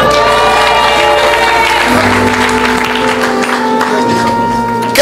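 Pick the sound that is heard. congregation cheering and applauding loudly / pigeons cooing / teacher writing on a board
congregation cheering and applauding loudly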